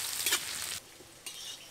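Chopped onions, three medium ones, frying with cumin seeds in a pan for khichuri, giving a soft broadband sizzle that drops away briefly and then returns, quiet and close.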